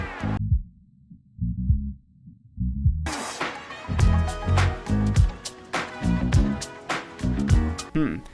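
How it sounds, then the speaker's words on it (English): A music sample plays stacked with an added low-end bass copy, heavy thumping bass pulses in a steady beat, with brighter melodic layers joining after a few seconds. "If you play them both together, you hear the sample playing with the added bass."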